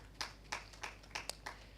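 Sparse, separate hand claps from the audience at a national dialogue on child trafficking in Uganda, about six slow, uneven claps, fairly quiet and distant in a room with a steady low hum.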